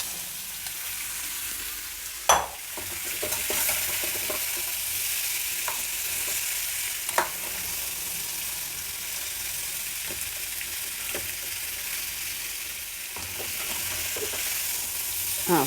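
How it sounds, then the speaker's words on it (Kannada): Marinated paneer fries in oil and ghee in a pan, giving a steady close sizzle with occasional sharp clinks and scrapes of a spatula against the metal. "ಈಗ ಮ್ಯಾರಿನೇಟ್ ಮಾಡಿ ಇಟ್ಕೊಂಡಿರೋ ಪನ್ನೀರನ್ನ ಇದರಲ್ಲಿ ಹಾಕಿ ಸ್ವಲ್ಪ ಫ್ರೈ ಮಾಡೋಣ"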